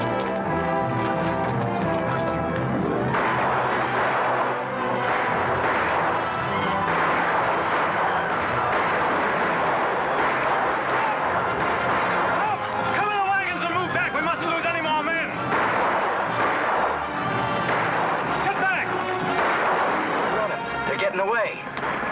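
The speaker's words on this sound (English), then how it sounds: "Everybody, take cover and open fire." Gunfire crackles through a film shootout in a Western setting, dense volleys of shots mixed with shouting men, running and general commotion, loud and continuous throughout.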